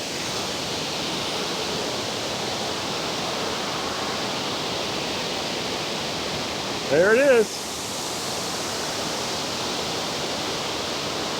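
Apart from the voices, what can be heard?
waterfall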